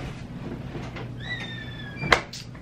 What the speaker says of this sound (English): Gotta close the door, you guys.